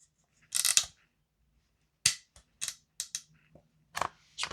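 A VFC G36C V2 gas blowback airsoft rifle fires on semi-auto: sharp, separate cracks, one dense burst followed by about seven single shots at uneven intervals, loud and close, with no talk.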